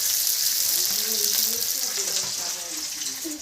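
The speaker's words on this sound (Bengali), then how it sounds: "পেঁয়াজ দিলাম তেলের মধ্যে" Loud, close sizzle of onions hitting hot oil, a dense crackling hiss with light stirring underneath, continuous for a few seconds and easing slightly toward the end.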